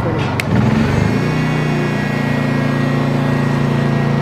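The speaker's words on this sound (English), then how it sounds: "you heard the generator ramp up from eco mode" A Honda EU2200i inverter generator converted to propane ramps up out of eco mode as a heat gun switches on high, its engine note rising after a brief transient and then settling into a steady, louder drone.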